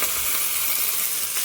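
Food frying in a pan with turmeric, a steady close broadband sizzle that stays loud and even throughout, with no voices.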